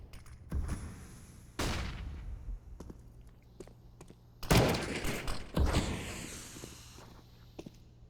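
Gunshots and a flashbang grenade in a competitive esports shooter match come as several loud, sharp bursts spread across the stretch, each fading quickly over a low, steady background hum.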